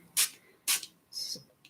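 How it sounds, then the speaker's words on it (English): A hand spray bottle squirts water mist onto wet paint in three or four short, sharp hissing bursts, close and quick, with brief pauses between pumps. "I'm spraying way up high,"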